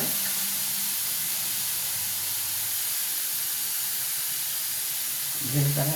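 Tomato, green chili, onion and other vegetables sizzle in a hot pan on a stove, a steady hissing fry running throughout, fairly loud and continuous, with a brief knock of the pan near the end.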